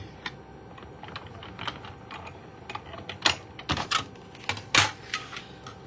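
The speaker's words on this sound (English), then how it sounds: "So we're going to take our sailboat die and our die cutting machine" A die cutting machine pressing a sailboat die through dark cardstock, giving a series of sharp clicks and crunchy mechanical bursts that grow denser and louder toward the end, with no voices.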